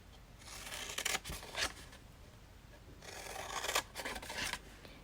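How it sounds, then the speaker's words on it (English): Scissors snip through paper cardstock for a small mini box, cutting up to the score lines in two separate bursts of crisp, close snipping with a pause between them and no talk. "I'm just going to cut up to the score line"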